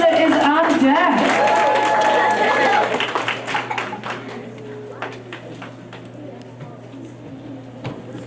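Audience at a school fifth-grade poetry slam clapping and cheering, loud at first with voices mixed in, then thinning into scattered claps as the noise dies down.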